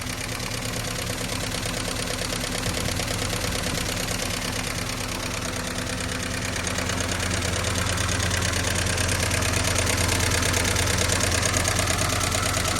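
The engine of a 1954 Jeep Willys idles steadily with a low, even rumble and a fast, light mechanical ticking running through it, close and continuous with no talk.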